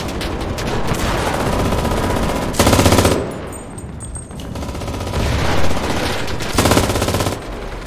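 Sustained automatic gunfire from the video game Enlisted, loud and dense rapid bursts running almost throughout, with a brief lull midway before heavy firing resumes.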